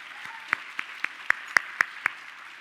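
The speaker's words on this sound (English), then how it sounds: "So a big round of applause to all of them for being here." At a Women in Trade program, a small audience applauds, with only a handful of separate, evenly spaced claps standing out over a faint background.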